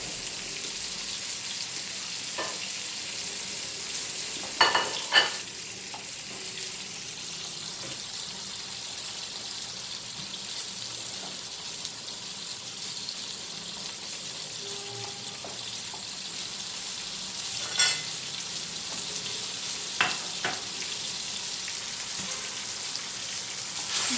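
Tomatoes go into a sizzling pan and are stirred. A soft, even frying hiss carries on throughout, broken by a few sharp utensil clinks and scrapes.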